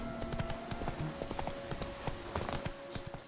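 Horse hooves clip-clop in the video game The Witcher 3: Hearts of Stone, a brisk, even run of hoofbeats at close range over low background ambience.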